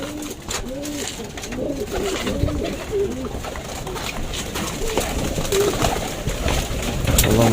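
Pigeons coo steadily in a loft, with overlapping soft, rounded calls from several birds repeating throughout amid a busy, rustling background.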